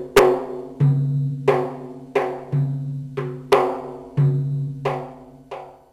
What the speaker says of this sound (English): Yes, that's the sound of the bendir.